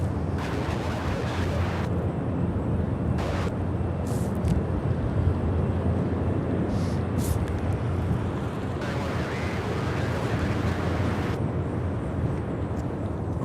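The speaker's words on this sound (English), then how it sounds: "All right, got to see the C-130s" A C-130 military transport aircraft drones loudly near Louisville International Airport, its heavy propeller roar continuous throughout, with brief bursts of wind buffeting and handling noise over it.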